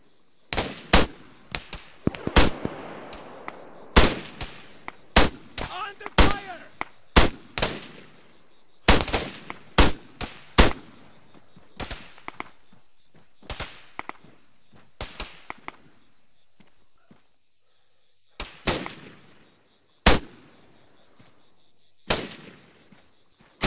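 Machine gun fire in the military game Arma 3 sounds as sharp, loud, irregular shots and short bursts with sudden attacks and quick decays, spaced apart with quiet gaps.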